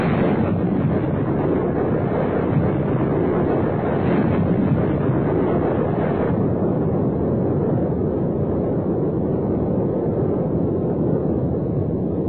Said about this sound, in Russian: Взрывное устройство сработало на заданной высоте.